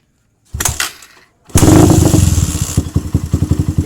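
A Suzuki Satria FU motorcycle engine is cranked with a short sputter, then catches on the second try and settles into a loud, close, rapidly pulsing idle.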